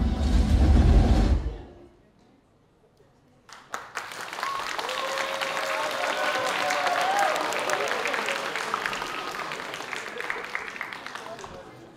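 An audience applauds loudly at the cosplay stage of the Black Sea Game Summit, clapping that fades out after a couple of seconds, followed after a short lull by a busy stage soundscape with voices.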